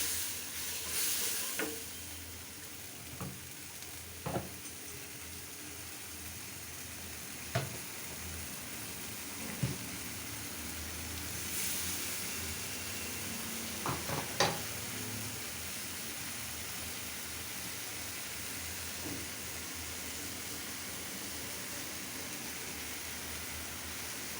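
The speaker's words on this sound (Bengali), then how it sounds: "একসাথে সব দিয়ে ভুনা করে একটু কষিয়ে তারপর সবজি দিয়ে দিব" Rohu fish pieces with spices frying and being stirred in a pan, a continuous low sizzle with occasional sharp spatula knocks and scrapes spread through, close but quiet and without speech.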